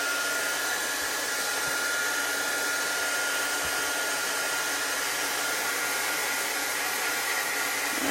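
A hair dryer blows continuously and loudly at close range while drying a chalk transfer, a constant steady whoosh with no pauses.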